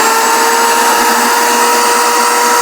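A power saw whines loudly and steadily through a push cut in wood for a woodworking box project, one continuous close, sustained cutting tone with no speech.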